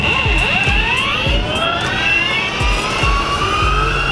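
A Mini S electric skateboard runs at full throttle, its motor letting out a loud, high, rising whine with shifting pitch, close by, over rhythmic low thumps of the wheels rolling over the ground.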